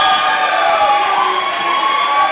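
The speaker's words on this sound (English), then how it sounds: "the crowd seems to enjoy it" Dense, steady crowd noise fills a live event with cheering and shouting, loud and continuous throughout with no single voice standing out.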